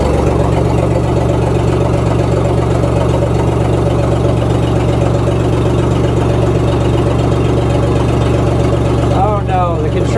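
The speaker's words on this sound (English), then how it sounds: "let's try this backhoe out" The engine of a 1978 backhoe runs steadily after its first start in years, a loud continuous idle with a low, even drone throughout and a brief higher whine near the end.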